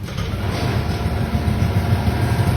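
A Yamaha Aerox or NMAX scooter with a check-engine error 61 fault runs steadily just after starting, a continuous low engine drone held at a constant, moderately loud level with no talk.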